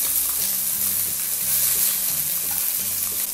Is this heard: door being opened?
no